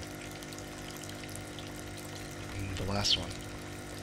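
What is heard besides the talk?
water sloshing as a hand reaches into a tank, from video game Kentucky Route Zero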